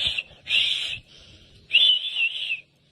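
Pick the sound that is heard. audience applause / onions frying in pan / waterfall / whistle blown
whistle blown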